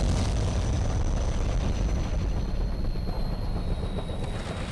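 A helicopter in an animated battle scene arrives as a steady, loud rotor and engine roar with a low throbbing rumble that fills the whole stretch without pause.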